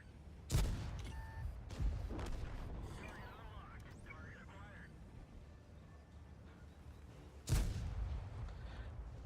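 Tank cannon shots in World of Tanks, two loud booming blasts several seconds apart, each with a sharp onset and a rumbling tail, over a steady engine drone and faint game noise.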